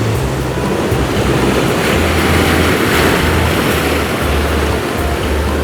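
Pacific Ocean surf on Chesterman Beach, Tofino, gives a continuous loud wash of breaking waves with a steady low roar and no voices.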